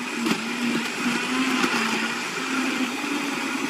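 A blender whirs steadily on its smoothie setting, blending fruits and vegetables with a constant motor drone and a dense churning rush, close and unbroken throughout.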